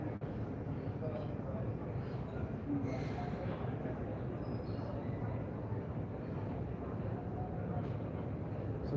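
Aircraft at Heathrow Terminal 5 make a steady, loud, continuous low rumble that fills the whole stretch, with faint voices underneath.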